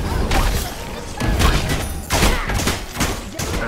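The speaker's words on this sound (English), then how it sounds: "Firing cyclone cannon." Cyclone cannon in the game SMITE firing four heavy blasts in quick succession, each a loud punchy burst with a short roar, close and dominant, with game effects underneath.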